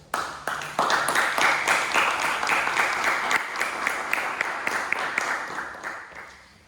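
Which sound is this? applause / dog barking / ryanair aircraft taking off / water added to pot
applause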